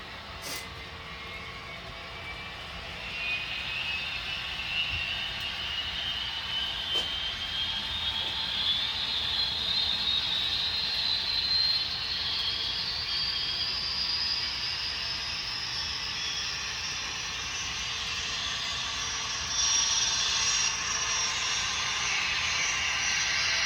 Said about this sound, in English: So I'm going to turn the turbine on and it's going to take off like a bat.